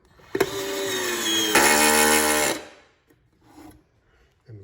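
A handheld power screwdriver with a magnetic bit whines in two steady bursts as screws are driven into a wooden washer-toss box, followed by a few faint knocks and shuffles, with no talking.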